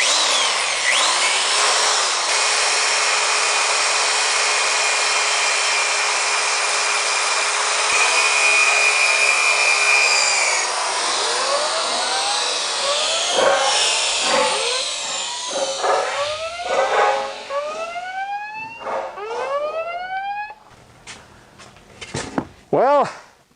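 Cedar bowl bottom being sanded with 150 grit sandpaper on a spinning lathe, a loud steady whirring hiss that later breaks into short scratchy strokes and bursts, with someone talking over parts of it.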